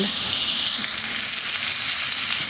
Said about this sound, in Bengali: এখন পেঁয়াজটারে বালা করে তেলের মাঝে লাল করবো